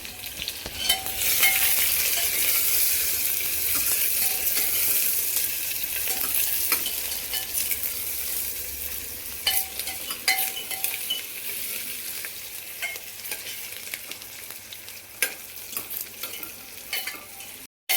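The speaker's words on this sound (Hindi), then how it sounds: "तो ये प्याज फ्राई होगी" Steady crackling sizzle of onion and garlic frying in a hot pan, with occasional scraping and stirring clinks, no voices.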